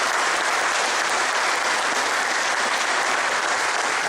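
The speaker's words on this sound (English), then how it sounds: "I'd like to recognize those guys right now with a round of applause," Dense, sustained applause from an audience at a volunteer meeting fills the room, loud and even throughout with no voices breaking through.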